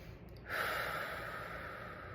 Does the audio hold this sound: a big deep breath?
yes